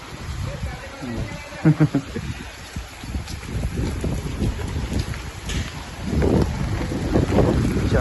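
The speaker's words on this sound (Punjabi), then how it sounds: "ਇੱਧਰ ਦੀ ਹਵਾ ਚੱਲ ਰਹੀ ਹੈ" Gusty wind buffets the microphone with rough low rumbling, growing stronger toward the end, while a person talks intermittently, outdoors on Punjab farmland as weather changes.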